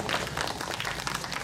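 An audience applauds at the 2017 Gugakro Korean traditional music festival, a brief, dense wash of clapping heard at moderate distance.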